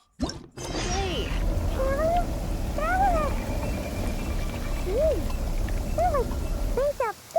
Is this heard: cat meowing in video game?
yes